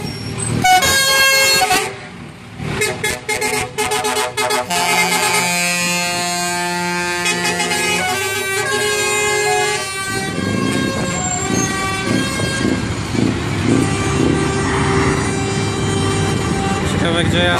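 Trucks rumble past in a stream of traffic, sounding repeated loud air horn blasts and toots, several long and sustained, over a background of engine noise with voices talking nearby.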